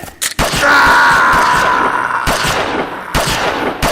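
Gunshots firing silver bullets in a vampire drama set in Whitechapel: a sharp loud report, then a strained cry and more bursts, the blasts loud and close.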